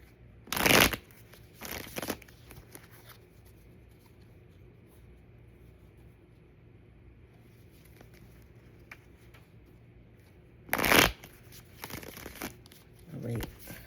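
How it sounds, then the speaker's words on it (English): Quick bursts of tarot cards being shuffled, two brisk flurries separated by a long quiet stretch, close by with faint rustling between. "is there a reason why I can't shuffle these?"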